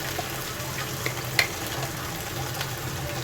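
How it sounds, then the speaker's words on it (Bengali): Chapa dried fish frying in a pan makes a quiet, continuous sizzle with a few small pops and spatula taps, heard close and alone. "শুটকিটাকে খুব সুন্দর করে একটু ভেজে নিয়েছি"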